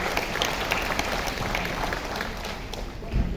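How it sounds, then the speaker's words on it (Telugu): An audience claps loudly and steadily at a public gathering, a dense, continuous patter of many hands with crowd noise mixed in, holding its level throughout. "ఆయన మరొకసారి గట్టి క్లాప్స్ కొడతాం ఫ్రెండ్స్."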